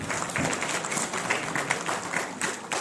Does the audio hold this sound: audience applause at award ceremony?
yes